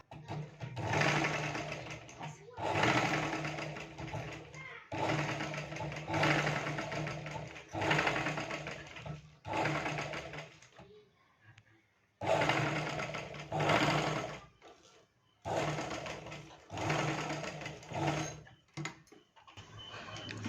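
Sewing machine stitching a blouse lining onto the main fabric, running in repeated bursts of a few seconds each with short pauses between, close and steady.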